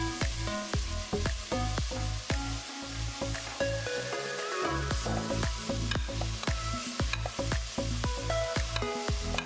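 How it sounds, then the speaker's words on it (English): Meat and onions frying in a pan, a steady loud sizzle with frequent stirring scrapes and clinks of a utensil throughout. "We just want the meat and the onions to brown."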